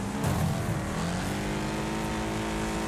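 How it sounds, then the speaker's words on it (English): Cars in a video-game banger race on the Crash Canyon track, a steady dense engine roar of several racing cars held close and loud for the whole stretch, with no talking. "head over to a banger race on Crash Canyon"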